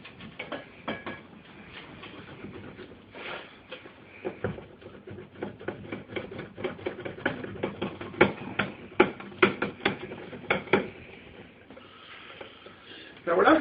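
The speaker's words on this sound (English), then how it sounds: "I'm going to give it a nice grate." A block of white cheddar cheese rubbed against a grater in a series of quick, rhythmic scraping strokes that grow sharper and more clicky toward the end, close and moderately loud.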